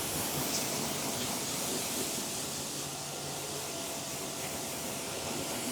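Water spray rinses a car wheel after cleaning, a steady, dense hiss of jetting water running evenly and loud throughout with no pauses or voices.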